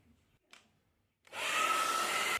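Hair dryer switched on to blow dust and moisture out of a long-uncleaned home air conditioner unit, a soft click and brief rustle followed by a loud, steady close-up whoosh with a faint motor whine.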